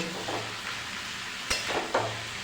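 Watermelon rind curry is stirred in a pan, a soft sizzle beneath a few scraping strokes of the spoon, close and moderately quiet, with no talking.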